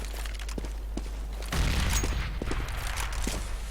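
Gunfire crackles in a Counter-Strike: Global Offensive match at an ESL One Katowice 2015 qualifier, a steady spray of sharp shots and scattered pops that grows denser midway through, over continuous game ambience.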